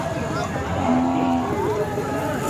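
A single short, low moo from a Khillar bull sounds briefly amid a noisy outdoor cattle market background with faint voices.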